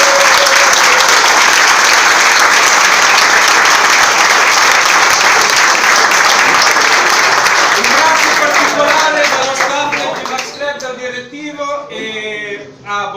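Lunch crowd at a Yamaha TMAX club rally in Friuli applauds loudly and steadily for about ten seconds, then the clapping thins out as voices take over.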